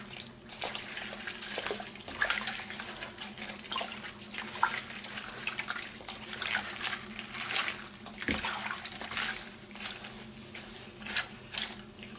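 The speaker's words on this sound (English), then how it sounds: "just give it a stir so that all the salt will penetrate the cabbage" Cabbage soaking in a salt-water brine for kimchi is stirred by hand, giving continuous close watery sloshing and splashing with a few louder swishes and no talking.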